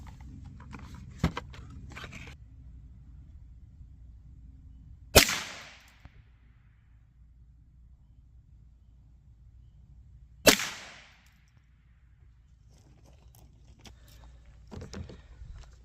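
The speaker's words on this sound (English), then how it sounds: "So first up, we'll do the old school golden bullet." Two sharp .22LR shots from Remington Golden Bullet rounds are fired into ballistic gel about five seconds apart, each a loud crack with a short decay over a quiet background.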